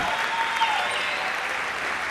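Spectators applaud steadily at a racquetball match, a continuous dense clapping heard close and fairly loud for the full stretch.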